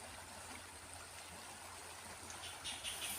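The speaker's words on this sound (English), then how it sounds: "So that's it, guys, the river." A small river in the Philippine countryside near Bacolod flows steadily, a continuous broadband wash of moving water heard close by, with a slight swell near the end and no talking.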